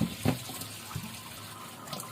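Leaves are washed in water for cooking fish, giving faint splashing and running-water sounds with a few soft sloshes, quiet and close.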